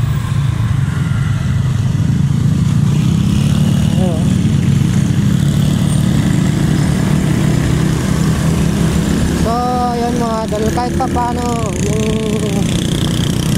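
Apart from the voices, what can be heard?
SkyGo King 150 motorcycle engine running on highway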